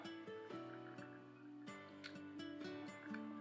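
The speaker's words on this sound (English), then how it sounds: "So that lock nut will go in there. Get it started here." A lock nut is threaded onto a wheel of a WLtoys 12428 4x4 RC crawler, giving small close-up mechanical clicks and ratcheting scrapes in short repeated bursts, with no talking.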